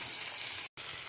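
Ridge gourd sautéing in a pan for an Andhra-style pachadi, giving a brief, even sizzling hiss that cuts out for a moment and then resumes.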